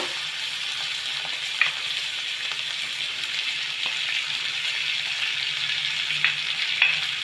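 Chana dal lentils frying in hot ghee for Bengali laddoos, a soft continuous sizzle with a few faint stirring clicks, close and steady, no talk.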